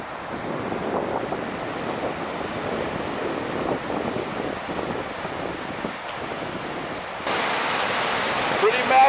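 Massive flow of the Santa Ana River in Orange and Anaheim, California, rushing steadily as a loud, broad roar with no breaks, growing a little louder near the end.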